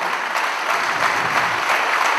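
An audience at a talk gives dense, steady applause, many hands clapping together at close range for the whole stretch.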